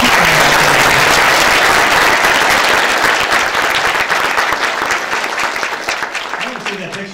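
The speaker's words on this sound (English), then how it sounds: "Give her another round of applause." Audience applause following a talk about changing your dreams, a dense, loud wash of clapping that holds steady and slowly thins toward the end.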